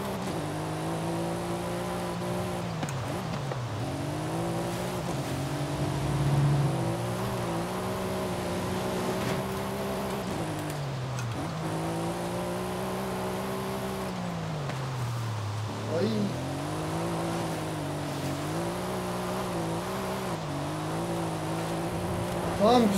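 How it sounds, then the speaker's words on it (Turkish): A Mercedes-AMG GT-R in Forza Horizon 5, its engine droning steadily while the pitch rises and falls through repeated acceleration and gear changes, loud and continuous with no talking. "Arabanın hızını test edelim diyeceğim."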